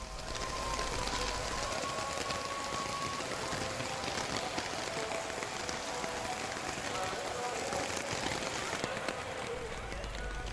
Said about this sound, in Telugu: పగలంతా ఎండ, రాత్రిపూట కుండపోత